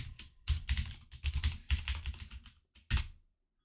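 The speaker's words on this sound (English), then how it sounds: "And then from now you need to fill in your password." Rapid keystrokes on a computer keyboard as a password is entered into a MetaTrader 5 trading account login, clustered bursts of close, crisp clicks with brief pauses between them.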